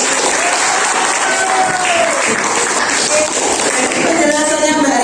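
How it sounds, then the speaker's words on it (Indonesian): A classroom group receives a burst of applause, dense continuous clapping from many students lasting a few seconds, close and loud. "Beri aplaus untuk kelompok."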